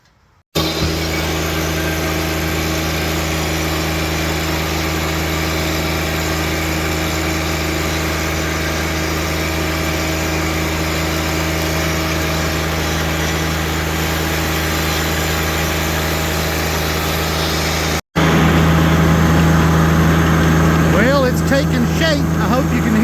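A tractor engine idles in a steady, loud drone close by during greenhouse work, with a voice talking over it and a brief cut before the engine continues slightly louder.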